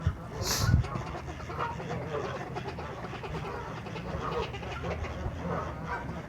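Geese at a pond among trees and grass give scattered honking, quacking calls, fairly faint and distant, while a voice talks over the quiet outdoor background.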